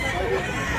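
Chickens at a poultry market in Mantalungon, Cebu cluck and call in a brief, dense, close burst with crowd noise behind.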